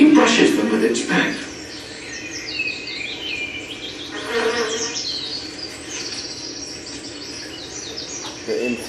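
A bee buzzes near a flower, its flight drone rising and fading in a couple of close passes amid faint insect hum and light bird chirps outdoors.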